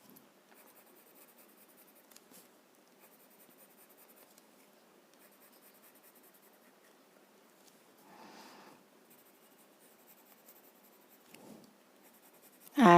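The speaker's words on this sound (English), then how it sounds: "I am going to add some thick graphite here" Thick graphite pencil shading on paper: soft, faint scratchy strokes in quiet bursts, with a louder brief scrape near the end.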